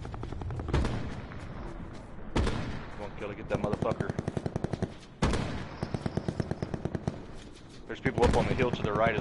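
Call of Duty Black Ops 4 Blackout gunfire in several rapid automatic bursts with a few heavier single blasts, loud and continuous across the span, mixed in with game sound.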